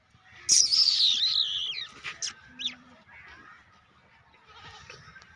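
Goat bleating in a farmyard, a loud wavering call near the start followed by a few shorter bleats, with other animals faint in the background.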